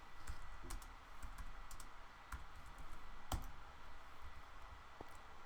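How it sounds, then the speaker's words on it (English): Keystrokes tapped out on a computer keyboard while entering block coordinates into Minecraft chat, a quiet run of irregular clicks with a few sharper key hits standing out. "To do this, I'm just going to type them in chat."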